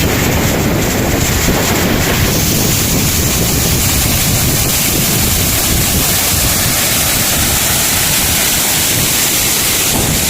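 Loud, constant roar of a rushing Himalayan waterfall in Uttarakhand, close and overwhelming, with wind buffeting the microphone throughout.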